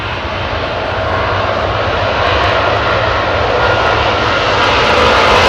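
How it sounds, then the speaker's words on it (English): A Boeing 777-200 with Rolls-Royce Trent engines at Heathrow Airport, a loud, close, continuous engine roar that builds slightly as it goes, with no voices. "Interesting to see an American carrier using Rolls-Royce Trent 777s"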